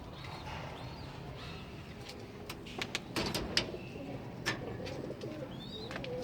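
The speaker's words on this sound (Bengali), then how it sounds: "এই যে আজকে এখানে 2টা কবুতর নতুন আনছে" Pigeons coo softly on a rooftop, their low murmuring calls blending into a busy, noisy background with a few sharper knocks near the middle.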